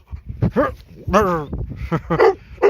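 Dog near Klínovec giving several short, whimpering yips and barks close to the microphone, mixed with a person's voice.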